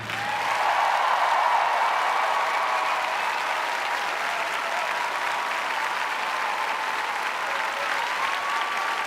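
Sustained, loud applause from a large arena crowd after a figure skating performance by Caitlin Osmond, a dense steady roar of clapping lasting throughout with no break.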